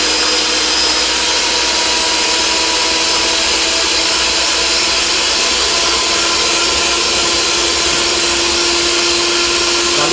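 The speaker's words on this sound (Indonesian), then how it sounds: "Kemudian kita mixer dengan volume tinggi, kemudian berakhir dengan volume rendah." A handheld electric mixer whirs steadily at high speed, beating sponge cake batter for a pandan chiffon-style bolu, a loud continuous motor drone with no pauses and no talking.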